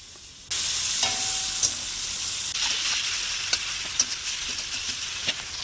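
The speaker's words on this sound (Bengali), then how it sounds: "এবার চিংড়ি মাছগুলোকে ভালো করে ভেজে নেব।" Shrimp fry in hot oil in a pan with a loud, bright sizzle that starts suddenly and keeps going, broken by a few sharp crackles and spits, with nobody talking.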